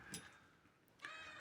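Cat meowing indoors, two short close meows separated by a brief quiet gap, the second ending in a sharper, louder cry.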